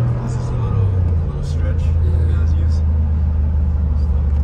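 Steady low engine rumble and road noise fill the cabin while riding inside a Mercedes 4x4, loud and continuous with no breaks.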